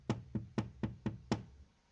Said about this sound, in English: She was standing in front of the window, looking outside and tapping the glass with her finger.